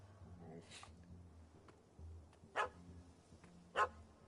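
A dog barking in The Witcher 3 video game: two short, sharp barks about a second apart, heard fairly close over quiet game background with faint music.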